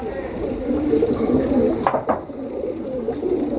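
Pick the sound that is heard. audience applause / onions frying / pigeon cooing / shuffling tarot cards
pigeon cooing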